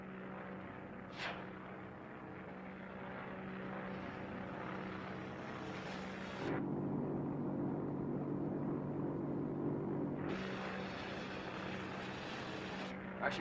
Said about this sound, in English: It's the plane.